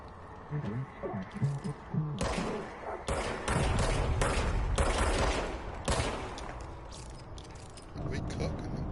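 Video game gunfire in bursts and rapid repeated shots, loud and close, interleaved with quieter gaps and a voice talking underneath.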